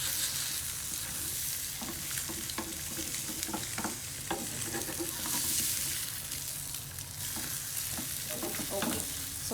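Two eggs frying in a pan for an English breakfast, a constant close hiss and crackle of hot oil with small pops and scraping stirs throughout, no talking.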